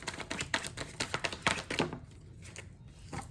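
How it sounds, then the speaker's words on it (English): Tarot cards being shuffled by hand, a quick run of crisp riffling clicks and flutters that thins out into quieter, sparser card noise toward the end. "Get a good shuffle in."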